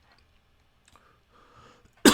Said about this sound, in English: Might have a coughing fit.